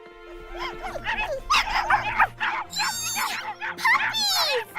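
A puppy yips and whimpers in high, squeaky bursts, mixed with short barks, close by and fairly loud.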